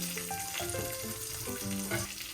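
Curry leaves dropped into hot oil in a pan for a Tamil coconut-milk rice dish, giving a steady, dense crackling sizzle close by with no voices.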